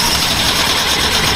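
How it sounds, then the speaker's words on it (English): A BMW 2002 engine idles roughly, giving a steady, loud, close rumble that does not pause. "see that rough idle, eh? Rough idle. It shouldn't be like that."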